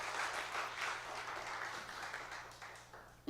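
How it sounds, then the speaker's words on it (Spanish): Applause from a church congregation, a soft, even patter of clapping heard from some distance, fading slightly toward the end. "Dale un fuerte aplauso al Señor"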